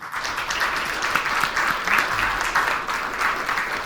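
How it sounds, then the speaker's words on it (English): An audience at a student recognition celebration clapping for silver sponsors: continuous, even applause from a sizable crowd, moderately loud and sustained for the whole stretch with no talk. "Let us give all of our silver sponsors another round of applause"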